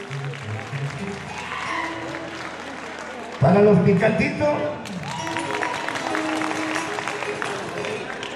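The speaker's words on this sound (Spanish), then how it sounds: "un aplauso para los aro suave" Audience applause at a serenade concert in Tarija, a burst of crowd clapping that breaks out midway and continues under a voice speaking over it.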